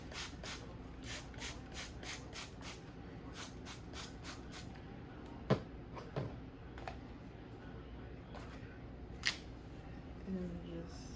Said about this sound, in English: So I'm just gonna go ahead and spray this down.